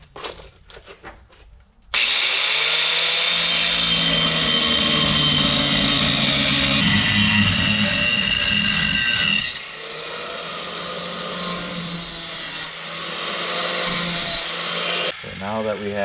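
A cutoff wheel slicing through metal while fabricating a track bar mount for a lowered 1967-72 Chevrolet C10, a loud continuous grinding screech starting after a brief pause and running over ten seconds, with short dips in pitch.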